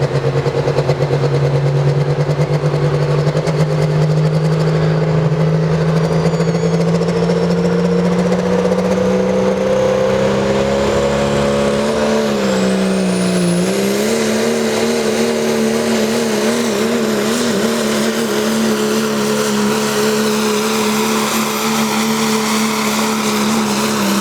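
Pulling truck engine at a 2016 truck and tractor pull, a loud sustained roar whose pitch climbs steadily, dips briefly near the middle, then holds high and wavering through the run.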